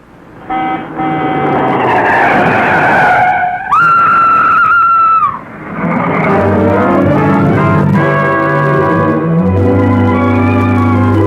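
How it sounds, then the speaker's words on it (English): A car skids on a road with long, loud tyre squeals that rise and hold in sustained howling tones amid engine roar, the screech continuing for several seconds with no talk over it. "that looks like my Aunt Jessica's car"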